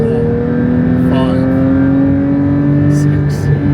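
Porsche 992 GT3 engine revving upward toward 9,000 RPM inside the car, a loud steady rising mechanical tone with a voice speaking over it.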